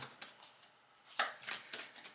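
Tarot cards being shuffled, giving quiet, crisp riffling bursts that come in an irregular rhythm. Each burst is short, with no talking over it.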